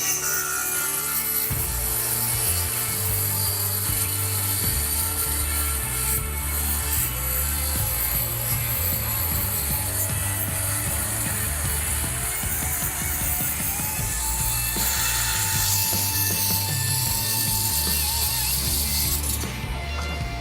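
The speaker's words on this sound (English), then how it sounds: "That's a 1/2 inch flange on this beam we're gonna cut with a standard circular saw." A standard 7 1/4 inch circular saw cuts through a 1/2 inch steel beam flange, giving a loud, steady, grinding metallic whine with a rough chattering undertone throughout.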